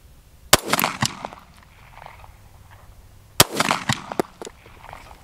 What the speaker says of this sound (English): Two shots, that's it, that's all I get.